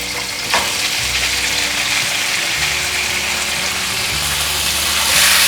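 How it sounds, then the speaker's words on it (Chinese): Tofu stir-fried fast in olive oil in a wok gives a loud, close, continuous sizzle and hiss, with a sharp scrape of the spatula near the start and steady tossing throughout. "快速翻炒"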